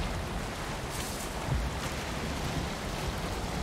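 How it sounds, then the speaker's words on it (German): Large ocean wave in the Valheim video game, a continuous broad wash of surf and wind noise that swells slightly midway, steady and enveloping with no talk. "da kommt eine große Welle"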